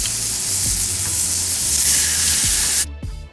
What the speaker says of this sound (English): now we're going to place the chuck eye steaks on the Himalayan Salt Rock